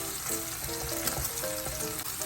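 Flour and butter fry in a pan as a roux, giving a close, continuous sizzle with light stirring and soft tonal music playing faintly underneath.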